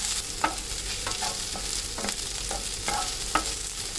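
Slit green chillies fry in a pan for sambar, a continuous close sizzle broken by a series of soft scraping stirs and occasional light taps of the spatula, with nobody speaking.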